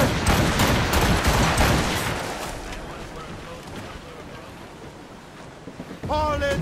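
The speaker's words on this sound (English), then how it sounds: "Fire!" Cannon fire from sailing warships in the game Assassin's Creed Rogue: a dense, loud volley of booming shots and crackling blasts that rolls and fades away, with a brief shouted voice at the end.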